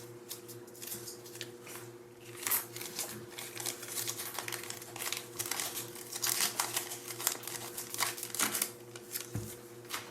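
Translucent vellum paper stickers are handled up close, giving soft papery crinkles, rustles and light taps that come and go across the stretch, with a steady low hum underneath and no talking.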